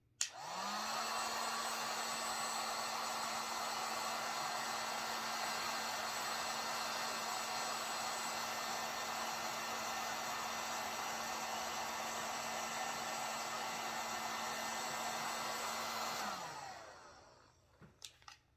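Heat tool blowing hot air to soften candle wax, a steady whirring blow that starts at once, runs evenly for about sixteen seconds and winds down, followed by faint clicks.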